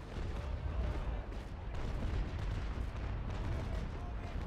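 Ship cannons fire in a naval battle in the sailing game Naval Action, a dense, continuous rumble of heavy booms and blasts rolling together for the full length at steady loudness.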